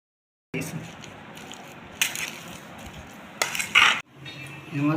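Boiled potatoes and peas are mashed and mixed for samosa filling, with soft squishing and scraping broken by a few sharp metal utensil clinks against the bowl, close and fairly quiet.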